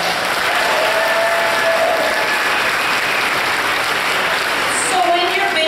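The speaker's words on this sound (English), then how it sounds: "give yourselves a round of applause." Steady, dense applause from a charity auction audience fills the room at full volume throughout, with a murmur of voices under it and a few brief whistle-like tones near the end.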